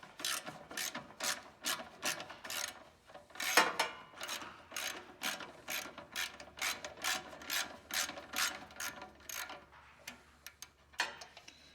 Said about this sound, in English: we're just gonna use a 1/4-inch ratchet. See if we can crack her loose